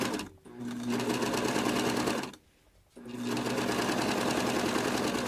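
A serger stitches cloth wipes around a curved edge, running as a fast, steady mechanical whir that stops briefly twice before starting up again, close and loud with no talking.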